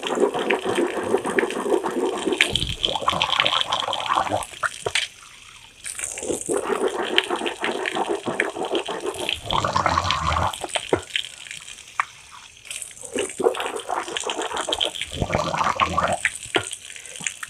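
Water poured into the mouth and rinsed during ablution: splashing, running water comes in several bursts separated by brief quieter gaps, close by and fairly loud.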